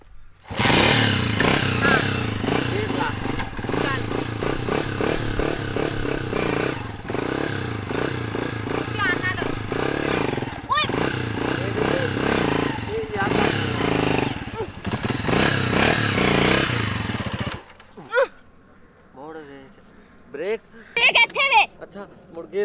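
A heavy motorcycle ridden on a village road by a learner, its engine droning loud and close with uneven revving and clunky gear changes while people talk and shout over it, then the engine cuts and voices continue.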